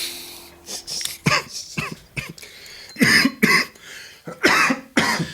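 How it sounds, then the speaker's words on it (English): A series of sharp, real coughs, about five or six loud bursts at uneven intervals, close to the microphone, with no talking. "That was a real cough."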